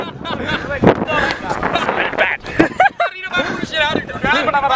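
Strong wind gusts rumble across the microphone at a Barcelona sea wall, a steady low roar under continuous loud nearby talking and shouting.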